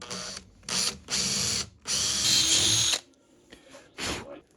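A power drill whirs in several short bursts while building a sliding bed in a Ford Transit Connect van, stopping and starting close by, with brief quiet gaps between runs.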